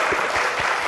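Audience applause at a talk show, a loud, close burst of dense clapping with no speech over it.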